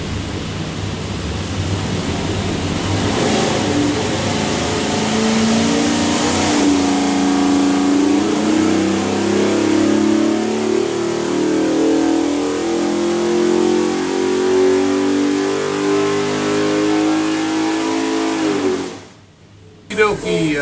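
A low-compression, naturally aspirated Dart LS V8 built for boost, destined for a 1983 Porsche 928, revs hard on a dyno pull, a loud sustained engine roar rising steadily in pitch for nearly twenty seconds before cutting off abruptly.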